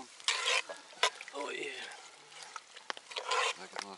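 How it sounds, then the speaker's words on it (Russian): Game meat stewing in birch sap is stirred in a pot at an outdoor field kitchen, with scraping spoon strokes against metal over a soft sizzle. Someone speaks briefly between the strokes. "Перемешаем."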